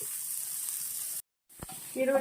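Onion frying in hot oil gives a soft, close sizzle that cuts out briefly, then returns with stirring noises and a faint voice near the end.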